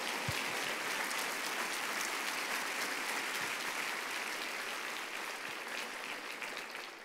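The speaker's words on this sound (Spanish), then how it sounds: "Le damos un aplauso al Señor" A congregation in church gives the Lord sustained, dense applause, loud and continuous from start to finish, with a few isolated low thumps under the clapping and no clear speech.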